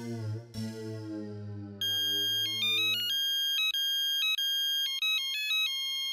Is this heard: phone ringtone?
yes